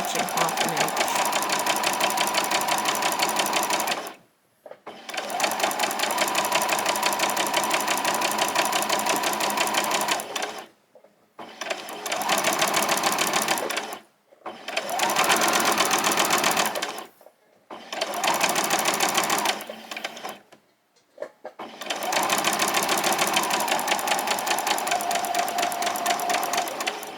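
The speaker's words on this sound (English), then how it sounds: "There's lines on my sewing machine. I'm going to follow the line which says 1/2 inch." A sewing machine stitches apron fabric in several loud, close runs of steady whirring, separated by short pauses, with talk in between.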